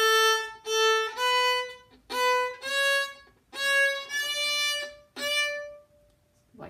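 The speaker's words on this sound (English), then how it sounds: "So we have more than one note that is in the same bow, but the bow stops in between each of those notes." A bowed string instrument plays hooked bowing: a series of sustained notes, clearly separated by short stops, some pairs sharing one bow, rising in pitch and ending on a faint held tone, played alone.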